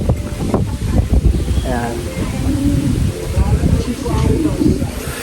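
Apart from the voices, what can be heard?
strong wind outdoors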